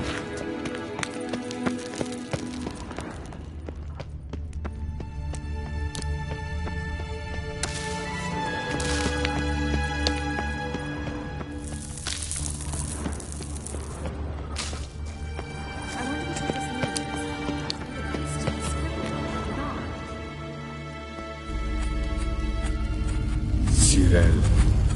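Horse hooves galloping at speed in The Witcher 3 game, a steady clip-clop under swelling orchestral music, with a whinny near the end and spoken dialogue around it.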